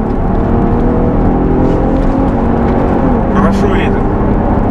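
An Infiniti FX35 accelerates on a test drive, its engine producing a steady, dense drone from inside the cabin. A brief whoosh rises toward the end, and someone talks over the engine.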